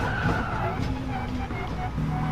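A sim racing car spins its tires under too much throttle, a continuous engine roar with tire squeal and skidding noise running steadily for a couple of seconds.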